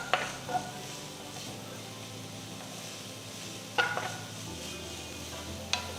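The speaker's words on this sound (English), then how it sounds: "Saute the onions till they turn to a nice golden color." Finely chopped onion and green chilies sauté in oil in a pan with a soft, steady sizzle, broken by a few sharp clinks from stirring.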